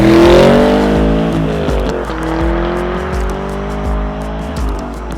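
The V8 engine of a Chevrolet Camaro Z/28 on sticky tyres roars as the car is driven hard, revving up and dropping through repeated gear changes, loud and close with a rumbling low end.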